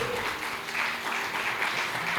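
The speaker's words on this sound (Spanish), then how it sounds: "Dale fuertes palmas de alabanza a Jesús de Nazaret." Congregation applauding in praise during a Spanish-language evangelical church service, a steady dense wash of clapping held at even loudness throughout.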